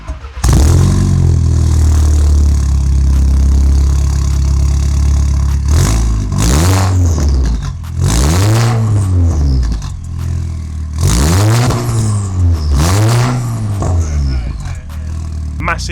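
A turbocharged car fitted with a Milltek race exhaust revs hard, close and loud: a long opening blip, then a pause and a series of rising and falling rev sweeps that snap up toward the soft limiter.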